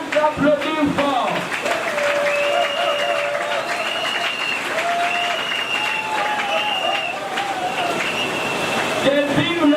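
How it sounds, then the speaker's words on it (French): A crowd at a Congolese political rally applauds loudly and steadily for most of the stretch, with cheers and whistles over the clapping and voices shouting amid the noise. "Que je vous demande d'applaudir fort."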